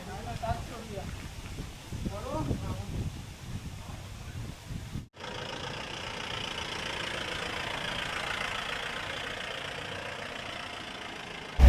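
A Mahindra Bolero on a furniture home-delivery run starts with people talking, then a steady, droning engine and road rumble fill the cabin at a constant level.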